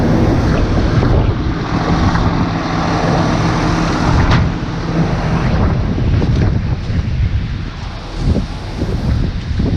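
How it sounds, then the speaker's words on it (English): Strong wind buffets the microphone outdoors in a soybean field at harvest, a dense, steady roar that stays loud throughout with gusty swells. "It's really windy out"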